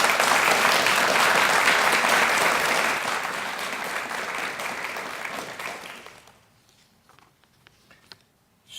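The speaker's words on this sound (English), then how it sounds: "Let's give them a round of applause." An audience gives loud, dense applause at a medallion ceremony. The clapping holds steady for several seconds, then thins and fades to a few scattered claps.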